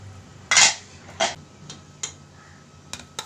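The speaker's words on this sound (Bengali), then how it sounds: "এরপর একটা ঢাকনা দিয়ে চাপা দিতে হবে যাতে এটা ভালো করে সেদ্ধ হয়।" A metal lid set onto a cooking pot of water and turmeric: a loud close clank, then a few lighter clinks and taps as it settles, no voices.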